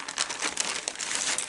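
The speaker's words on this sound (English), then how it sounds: "let's get some of this tape out." Thin tape is pulled out during a restoration of a 1986 Nintendo Game Boy DMG, producing a brief, close crinkly rasp with quick uneven crackles.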